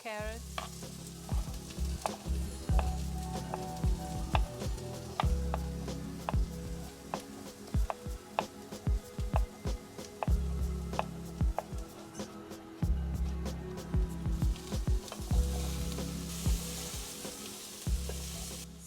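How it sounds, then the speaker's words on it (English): Onion frying and sizzling in a pan for a rooster bone broth soup, a steady close crackle with repeated stirring and scraping clatters, no talking. "So I cook until brown the onion"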